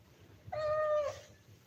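A single cat meows once, close by and moderately quiet, a short rising-then-steady call of about half a second with no talking around it.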